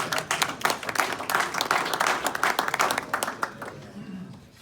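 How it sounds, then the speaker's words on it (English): Audience applause for students at a university Founders Day gathering, brisk, dense clapping from a crowd that carries strongly before thinning and fading out near the end. "So round of applause to our students."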